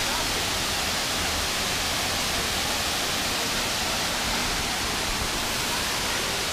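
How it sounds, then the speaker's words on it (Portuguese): A very high waterfall, Cachoeira do Paredão in Guapé, roaring as a dense, constant broadband rush of falling water, loud and unbroken with no talk over it. "Uma cachoeira muito alta"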